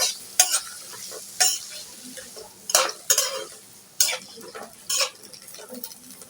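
Dried fish, beans and potatoes with salt and green chillies are stirred in a pan, giving sharp scraping strokes of a spatula every second or so over a soft sizzle, close and clear with no talk.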